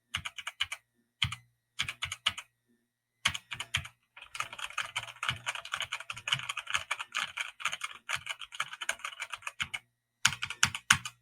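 Gaming keyboard with springy keys being pressed, first in short clustered bursts of clacks separated by pauses, then a longer run of rapid, crisp key strikes close up, ending with another quick burst.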